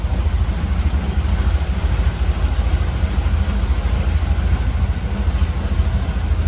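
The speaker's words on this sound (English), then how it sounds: "Gas powered barn fan. Mazda RX7 engine." A gas-powered barn fan driven by a souped-up Mazda RX7 rotary engine with a big blower belt runs steadily, giving a loud, close, continuous low drone with a fast throbbing pulse and no talk.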